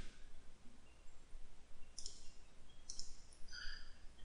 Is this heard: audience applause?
no